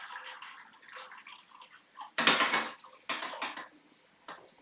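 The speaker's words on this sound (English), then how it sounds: "I'm just going to use a whisk for the moment, just to whisk it up" A whisk beating sauce in a pan for a fennel and bacon pasta bake, with quick irregular metallic clicks and scrapes against the pan, fairly faint with short pauses between bursts.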